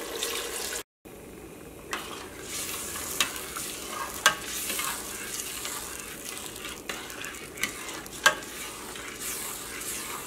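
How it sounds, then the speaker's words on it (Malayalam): Robusta banana halwa with maida is stirred continuously in a hot pan, a steady soft sizzle broken by repeated sharp scrapes and clinks of the spoon against the pan, close and without talk. "ഇനി ഇത് നന്നായിട്ട് ഡ്രൈ ആയിട്ട് വരണവരെ നിർത്താണ്ട് ഇളക്കി കൊടുത്തോണ്ടിരിക്കുന്നു"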